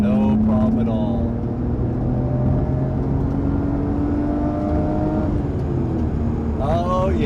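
Nissan Skyline R32 pulling hard in third gear from about 2,100 rpm, a steady rising engine drone with whirring harmonics held loud and close throughout, a voice speaking briefly near the start and end.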